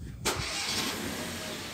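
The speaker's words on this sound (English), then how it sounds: "Let's see how it starts up. This is the first time I've started this vehicle." A brand-new Citroën C4 Cactus 1.2 litre three-cylinder petrol engine starts for the first time: a sharp crank catches abruptly, then settles into a steady, even idle heard up close with no talk.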